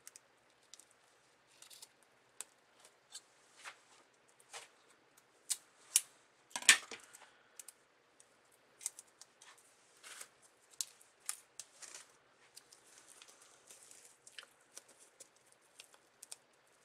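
Scissors trimming the ends of taped ribbon, giving faint, close, sparse snips and small papery rustles, with one sharper cut in the middle.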